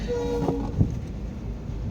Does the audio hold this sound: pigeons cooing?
no